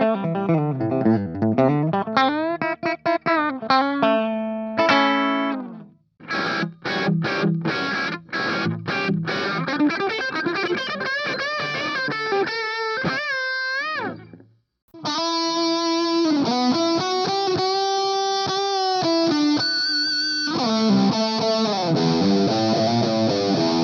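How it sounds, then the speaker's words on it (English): Electric guitar through a NUX Mighty Air amplifier on its clean tone, playing chords and single-note lines, with rich harmonics and slight grit, pausing briefly twice before continuing. "now the clean tone for the NUX Mighty Air"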